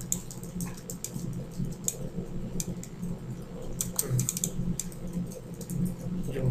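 Computer keyboard keys clack in irregular bursts while artwork is edited, quick light taps and clicks close by over a faint low hum, with no talking.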